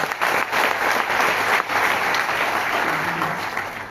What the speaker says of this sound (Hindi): एक बार इस इनकम के लिए जोरदार तालियां हो।